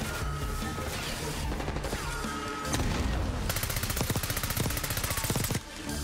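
Rapid bursts of automatic gunfire and crashing impacts from the Call of Duty Black Ops 6 video game, dense and continuous, with a sharp staccato run of shots in the final seconds.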